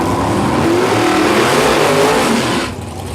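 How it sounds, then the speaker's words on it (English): At Heathcote Park drag strip, a drag racing car launches off the line with wheel spin: a loud, close, sustained engine roar with rising tones that cuts off sharply near the end, with no voices. "plenty of wheel spin off the line there"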